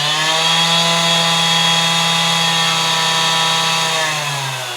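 Parkside Performance 20V cordless random orbital sander running at 7500 RPM: a steady, loud, close motor whine with a strong buzzing hum that holds throughout and eases slightly at the end.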